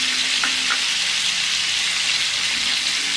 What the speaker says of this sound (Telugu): ప్రాన్ ఫ్రై అయ్యేటప్పుడు